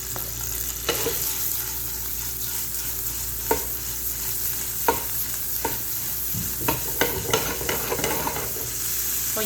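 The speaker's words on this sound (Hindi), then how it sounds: "जो पुदीना, धनिया, सब्ज़ मिर्च काट के रखी थी और उसमें दूसरे में भी चीरा लगाया हुआ था वो सब इसके अंदर मैं शामिल कर दूंगी" Chopped mint, coriander and slit green chillies sizzle in hot fat for a chana dal tadka, a steady close crackle broken by regular clinks and scrapes of a stirring spoon, with no talking.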